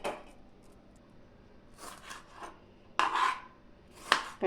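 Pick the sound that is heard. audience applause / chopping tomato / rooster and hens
chopping tomato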